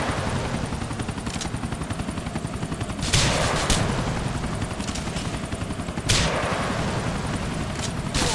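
A helicopter in Grand Theft Auto IV, its steady rotor chop thrumming close and loud throughout, with short gunfire bursts cutting in twice against the drone.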